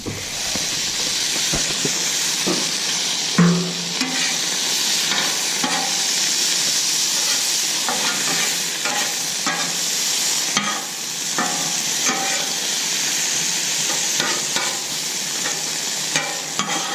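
Water hisses and sizzles loudly on a hot Camp Chef 600 flat top griddle in a continuous steamy crackle, with occasional scraping and clinks of a utensil.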